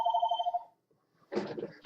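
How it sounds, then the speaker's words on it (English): Phone ringing in a room, a pulsing electronic trill that stops after under a second, followed by a brief rustling clatter of handling nearby. "my phone's ringing"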